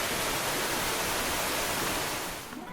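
Me-daki waterfall on the Nakasendo trail between Magome and Tsumago, a steady dense roar of falling water filling the scene, close and continuous, with no voices.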